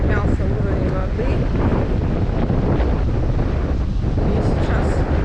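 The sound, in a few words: wind blowing at the seashore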